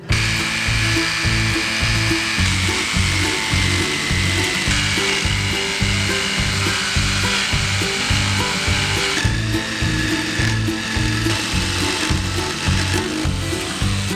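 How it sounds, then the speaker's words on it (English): A saw cuts a hole through an aluminum mast, making loud, continuous grinding and rasping with a steady, pulsing rhythm that carries through the whole stretch, with no talking over it. "I want to cut a clean hole in this aluminum mast, but I also want to round the bottom"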